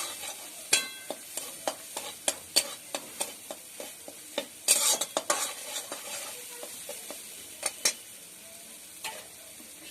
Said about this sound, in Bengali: আমি মশলাটাকে ভাজতে থাকবো।